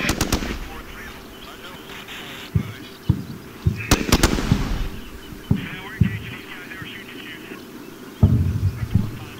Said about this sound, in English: So the M240 effectively suppressed that sniper